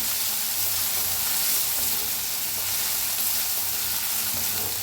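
Drumstick pods dry-roasting in a pan for a spicy dry vegetable dish give a steady, even hiss and crackle that stays close and constant throughout, with no voices.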